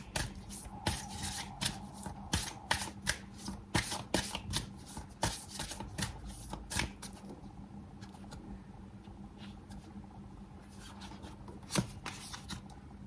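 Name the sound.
tarot cards being shuffled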